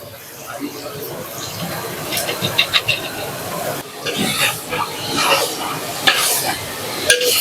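Shredded cabbage goes into a pan of frying potatoes and is stirred, giving a close sizzle with scraping spatula strokes and soft clinks of the pan, while a voice talks over it.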